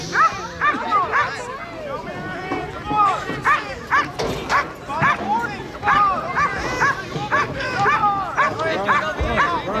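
Several dogs bark, yip and whimper in repeated overlapping bursts at a drug dog assembly, with a crowd's babble running underneath throughout.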